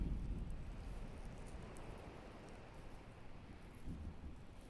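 A storm at sea in the Kingdom Hearts video game: a quiet, steady wash of wind and rain over a low rumble. It sustains evenly with no voices.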